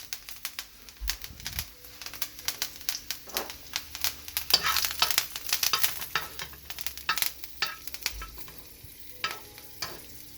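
Thyme and garlic hit smoking-hot oil in a frying pan before a steak, giving a steady close sizzle and crackle with intermittent scraping stir strokes throughout.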